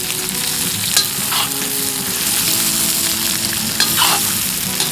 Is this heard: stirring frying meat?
yes